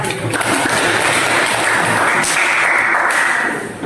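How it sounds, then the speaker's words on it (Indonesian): Applause from a classroom audience for a student group after their discussion presentation, a dense, steady patter of clapping lasting a few seconds and easing slightly at the end. "Tepuk tangan dulu buat kelompok 1."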